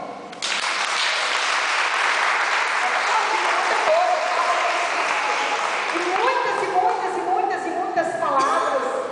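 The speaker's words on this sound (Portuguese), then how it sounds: "Mulheres, pode aplaudir." Women in a church audience break into sustained applause, a dense wash of clapping that carries steadily from start to finish, with voices rising over it toward the end.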